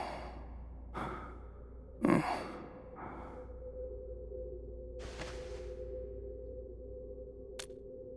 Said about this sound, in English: Breathing is stable.